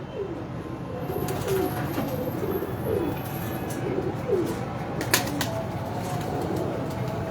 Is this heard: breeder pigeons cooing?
yes